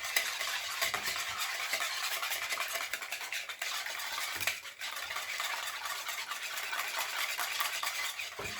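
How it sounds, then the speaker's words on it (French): Eggs are whisked in a salad bowl, making a continuous, fast scraping and tapping rhythm close by, with one brief pause partway through. "j'ai pris un saladier et je vais donc commencer par fouetter"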